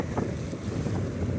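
Strong wind buffets the microphone outdoors where a fishing line is being tied, a continuous roaring gust with low rumbling and no talking.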